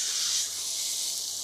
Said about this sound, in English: All right, are you ready for the sizzle?